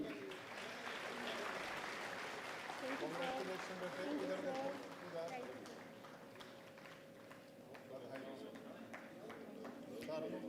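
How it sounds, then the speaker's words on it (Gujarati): Audience applause for graduating students at a university convocation ceremony, steady and continuous throughout, with a voice speaking over the clapping. "આ સૌ વિદ્યાર્થીઓને આપણે તાળીઓથી વધાવતા રહીએ।"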